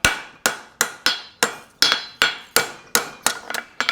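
A blacksmith's hammer strikes a horseshoe being forged into a hunter-style front shoe, about ten sharp, ringing blows in a steady rhythm, close and loud with no talk.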